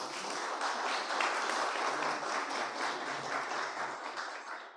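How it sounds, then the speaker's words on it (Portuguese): Applause from an audience at a corporate IoT hardware convention rises as a dense, steady patter of many hands clapping, heard at a distance and fairly faint, continuing without a break throughout. "Salva de palmas."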